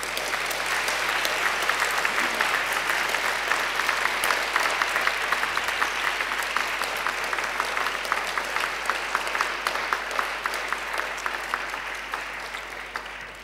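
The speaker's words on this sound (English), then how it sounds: "now I ask you to give them a mighty round of applause" A graduation ceremony audience applauds at length, a broad and sustained roar of many hands clapping that holds steady and tapers slightly toward the end.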